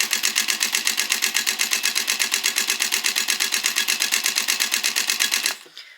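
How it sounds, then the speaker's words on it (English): A domestic sewing machine stitching a beginner grocery tote bag, running in a fast, even mechanical rhythm for about five and a half seconds before slowing and stopping; close and loud, with no talking. "So let's start sewing."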